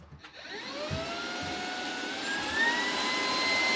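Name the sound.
vacuum cleaner hoovering inside a motorhome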